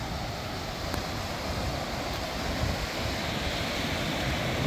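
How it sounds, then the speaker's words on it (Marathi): Large ocean waves breaking along a shore beside a seaside club, a steady close roar of surf mixed with wind buffeting the microphone, continuous and fairly loud throughout. "मोठ्या मोठ्या लाटा आहेत."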